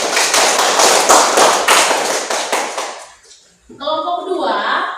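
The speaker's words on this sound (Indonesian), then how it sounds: "Tepuk tangan dulu untuk kelompok 1." A classroom of children claps for a student group, a loud steady burst of many hands that fades out, followed by a voice speaking.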